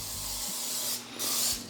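Two short hissing bursts of cooking spray from a can into a 9x13 baking pan, close up, separated by a brief pause.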